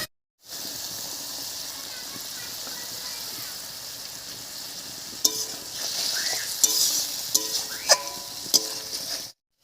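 A spice paste thinned with water fries in a pan, a soft steady sizzle that swells into a louder bubbling hiss partway through, accompanied by several sharp utensil clinks and scrapes.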